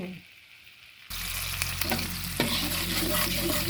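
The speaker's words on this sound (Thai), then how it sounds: "เคี่ยวกะทิให้แตกมันก่อนนะคะทุกคน" Coconut milk for pork panang curry cooks in a pan. After a quiet start, a loud, dense sizzling bubble sets in suddenly, with a spoon clinking and scraping as it is stirred, all close and without talk.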